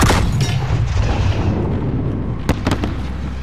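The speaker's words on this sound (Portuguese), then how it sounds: "dispara o sinalizador do lançador no telhado" A flare launcher fires in the Call of Duty Modern Warfare video game on a rooftop: a sharp, loud blast that trails into a rumbling fade, then a few quick crackling pops near the end.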